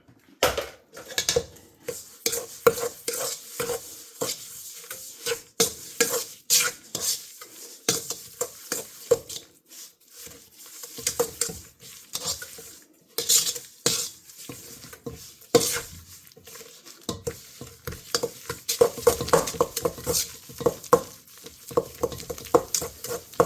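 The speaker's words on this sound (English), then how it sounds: "I'm just going to mix it until it's perfectly smooth and incorporated, and there's no lumps." An egg being mixed into lemon drop cookie dough in a bowl, with repeated scraping, clacking strokes of a utensil against the bowl in an uneven rhythm, close and fairly loud.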